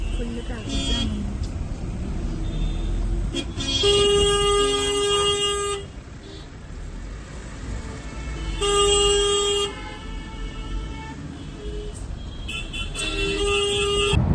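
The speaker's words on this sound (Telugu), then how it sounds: "ఫుల్ ట్రాఫిక్ జామ్ ఉంది" Delhi traffic sits jammed while car horns toot and honk in repeated bursts, some long and some short, over a constant road rumble heard from inside a cab. Voices talk at times through the honking.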